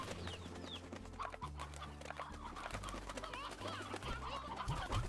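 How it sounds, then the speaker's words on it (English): Clucking and cooing chickens and roosters from the Slime Rancher video game, layered over a steady low game-music drone for about five seconds, with no voices. "And deposit these roosters, chickadoos, and hen-hens."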